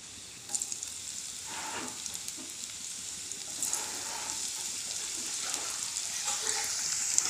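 Onion and garlic sizzle steadily in hot mustard oil beside small dried fish, with a continuous bright frying hiss and occasional soft stirring scrapes throughout, fairly close and without talk.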